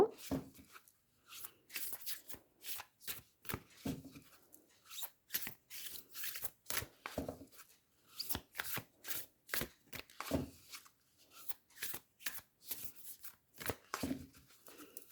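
Tarot cards are shuffled in repeated quick bursts of riffling and slapping, close and crisp, with short pauses between each run.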